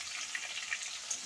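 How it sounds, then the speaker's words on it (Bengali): Potatoes fry in a pan with cumin seeds and bay leaves, giving a steady close-up sizzle with light crackling pops. No one speaks. "প্রথমে আলু ভেজে নেব।"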